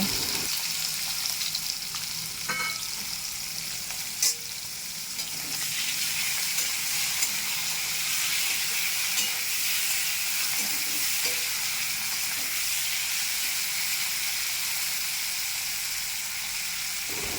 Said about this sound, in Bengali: তেল গরম হয়ে গেছে, চিংড়ি মাছগুলো দিয়ে দেব